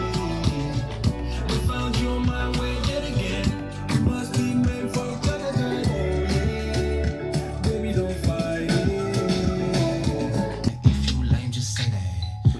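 Music with a full bass line and steady beat plays continuously from a Sony ULT Field 1 portable speaker with the ULT bass boost switched off, filling the whole span with no talking.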